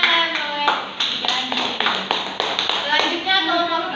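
Pupils in an Indonesian primary school Qur'an and Hadith class clap together in a loose rhythm of separate, fairly close hand claps, about eight to ten sharp beats across four seconds.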